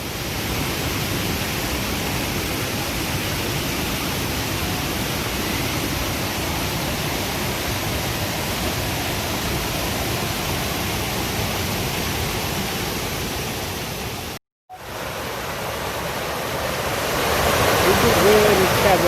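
River water rushes steadily near Fenton Falls in Williamsfield, Westmoreland, Jamaica, a broad constant hiss of flowing water that briefly cuts out and then swells louder.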